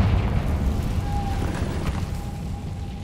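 Confringo explosive spell going off in Hogwarts Legacy: a heavy, rumbling blast that rolls on steadily for a few seconds at moderate loudness.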